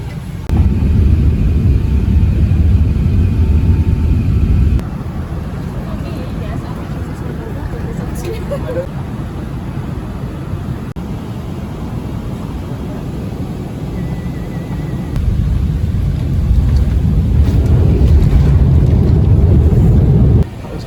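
Steady low engine roar from an aircraft cabin, rising and easing in loudness, with people talking over it.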